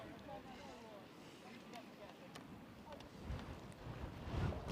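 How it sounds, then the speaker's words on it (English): Wind buffeting a microphone at an outdoor American football match, a constant low rumbling roar that swells louder toward the end, with a voice talking over it. "Oh my god, it's windy."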